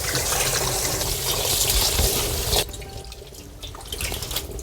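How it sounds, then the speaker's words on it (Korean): Boiled spring cabbage greens (bomdong) are swished and rinsed in very cold water, with a loud rush of running water that cuts off midway into softer splashing, dripping and handling sounds. "아주 차가운 물로 해서 살랑살랑 해갖고 한 번만 헹궈주시면 됩니다"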